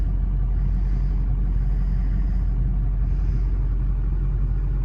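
A Ford 6.0 Powerstroke diesel truck engine runs just after starting, a steady close-up idle rumble that holds evenly throughout with no other sounds.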